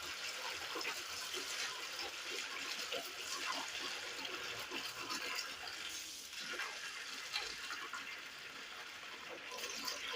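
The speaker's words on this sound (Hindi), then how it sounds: "इसमें मैंने पानी डाल लिया, मैंने नल के नीचे रखी" Tap water runs into a container, a steady, fairly faint hissing gush that continues evenly throughout with no talk.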